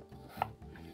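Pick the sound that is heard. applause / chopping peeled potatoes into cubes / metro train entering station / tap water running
chopping peeled potatoes into cubes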